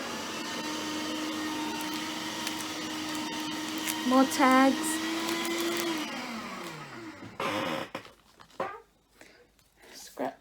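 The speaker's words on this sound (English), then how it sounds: "Oh, it's going to be loud because I'm going to shred something." An electric paper shredder runs with a steady loud motor whine for several seconds, rising as paper feeds through, then winds down; a voice speaks briefly near the end amid rustling.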